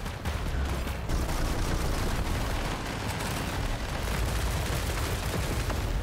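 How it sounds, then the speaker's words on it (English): A battle robot in War Robots Frontiers unleashes a rocket barrage, a dense continuous roar of overlapping blasts and rapid explosions that stays loud and unbroken throughout. "Blast of rockets."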